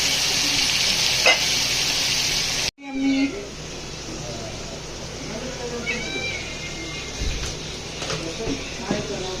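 Mutton sizzles loudly in oil in a pan as it is stirred. The hiss stops abruptly, then continues more quietly under a voice and some cat-like cries.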